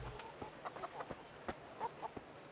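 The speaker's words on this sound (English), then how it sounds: "Out the way, chickens." Chickens cluck in short, scattered bursts in Kingdom Come: Deliverance, a handful of soft calls spread irregularly over a quiet outdoor background.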